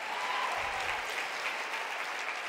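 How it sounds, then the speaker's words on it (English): Steady applause from an audience fills a room at an awards luncheon, even and sustained throughout with no break. "But yes, we can clap for Valerie Jarrett, we must,"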